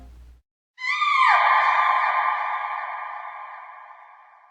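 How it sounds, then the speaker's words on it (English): A shrill, sustained scream in an audio drama rings out after a brief silence, bright and piercing, then slowly trails off as if muffled behind a plastered brick wall. "A scream came from behind the wall."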